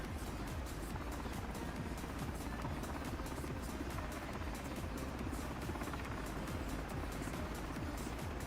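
Continuous rotor chop and turbine drone of a Miltech MH60T helicopter in flight in Microsoft Flight Simulator 2024, a rapid, even beating that holds steady and loud for the whole stretch with no voices.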